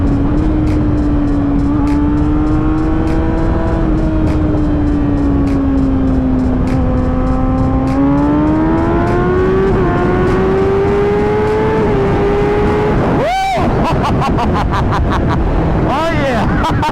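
A 2017 Kawasaki ZX10R motorcycle with a flashed ECU and quick shifter accelerates hard in a wet rolling pull from around 60 mph, its engine note climbing steadily through gears with brief shift breaks, loud and close, with wind roar throughout.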